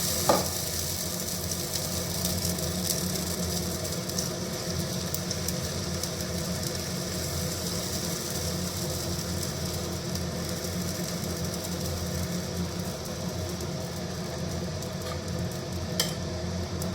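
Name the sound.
pesarattu moong dal crepe sizzling in oiled pan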